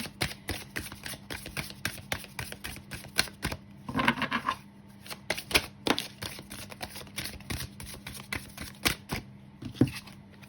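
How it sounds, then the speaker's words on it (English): A butterfly oracle deck is shuffled close up, giving a rapid series of crisp card snaps and riffles with one denser burst midway, continuing steadily with no talking. "I'm just going to pull out some cards from my butterfly oracle deck"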